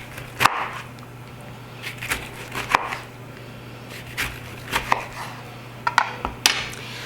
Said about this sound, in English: I usually just cut them into slices, smaller slices